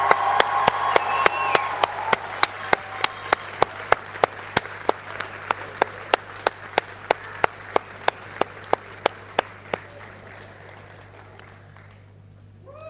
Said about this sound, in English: give this time a really huge cheer and a round of applause for your loved ones